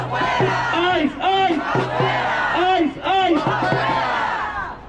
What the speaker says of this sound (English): I also want to see if we can chant something in Spanish